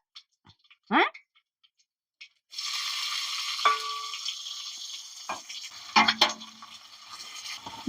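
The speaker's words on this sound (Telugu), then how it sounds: "మంచిగా నూనె లేపుకోనాలి ఇట్లా. ఇది ఏగుతుంటది." Chopped onion added to hot oil with cumin and mustard seeds starts a loud, steady frying sizzle, with a few stirring clatters against the pan. Scattered soft handling noises come before it.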